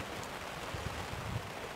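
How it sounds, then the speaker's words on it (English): Steady rain falls on a cool day of about 9 Celsius, a soft, even wash of patter that stays low and constant throughout, with no talking. "I'm just sitting here and listening to the rain, it's quite relaxing."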